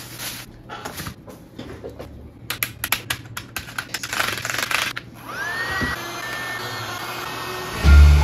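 A cheap USB mini vacuum cleaner works over a computer keyboard, giving a run of quick clicky taps and rattles, then settling into a steady thin motor whine that holds to the end, with a brief louder bump at the close.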